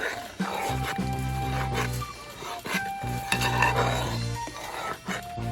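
Wheat halwa with ghee is stirred in a pan, a spoon scraping and clinking against the metal in repeated strokes over a low hum and light sizzle, with no voices.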